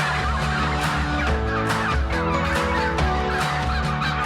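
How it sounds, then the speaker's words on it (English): Kelly Bronze turkeys raised for Christmas on a farm on the Angus and Dundee border, a dense flock gobbling continuously in loud overlapping bursts with no voices. "they produce high-quality, high-welfare Kelly bronze turkeys for Christmas Day"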